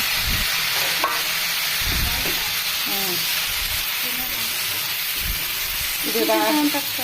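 Tomatoes for chutney sauté in a hot pan with a steady broadband sizzle and hiss, punctuated by occasional stirring clatter; a voice talks over part of it.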